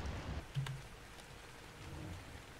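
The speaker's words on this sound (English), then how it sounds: "it's raining" Rain falls in the survival video game Ark Survival Evolved as a faint, steady wash of hiss with no voices, with a soft low thump near the start.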